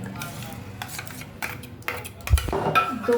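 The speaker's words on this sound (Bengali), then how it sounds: "ভালো করে মিক্স করে নিচ্ছে।" A spoon scrapes and clinks around a bowl as egg batter with soaked, dry-roasted semolina and yogurt is mixed, the stirring strokes irregular and close by.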